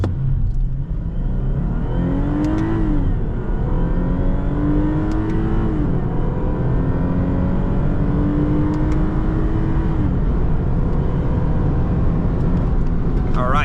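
A 2006 Lexus IS 350 in sport mode accelerates hard through a quarter-mile run, its engine loud and close, revs climbing in repeated sweeps broken by gear changes.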